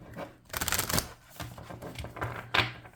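Oracle cards are shuffled quickly up close, a short riffling burst followed by softer shuffling and tapping.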